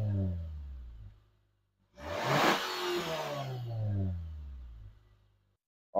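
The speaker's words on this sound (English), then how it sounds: "let's go ahead and see what this exhaust sounds like" A 2021 Nissan Sentra SR engine revs up sharply through the exhaust, holds a throaty roar, then settles back to a low idle before a short burst at the end.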